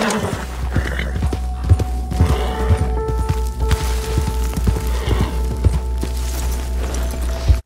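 Clip-clop of hooves from a Flaxen Chestnut Hungarian Halfbred in a video game, steady footfalls over a low constant rumble, with a faint whinny mixed in and no voices.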